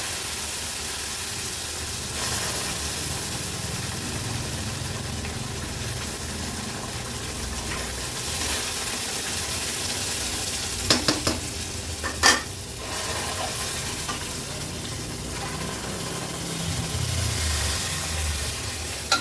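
Steady sizzling and frying of semolina in a pan, with a few sharp bursts of hissing as milk and water are poured in.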